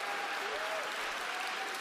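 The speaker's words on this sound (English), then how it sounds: "And then we get fucking people clapping for Ben Shapiro because he says a definition?" Steady applause from an audience clapping for Ben Shapiro, a dense, even wash of hand claps from a crowd that holds at a constant level throughout, with a faint tonal whistle drifting underneath.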